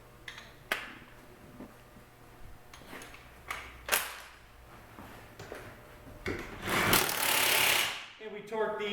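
An impact gun rattles wheel lug nuts tight during a winter readiness check, in short hammering bursts with pauses between, then a longer loud buzzing run near the end, close in a shop.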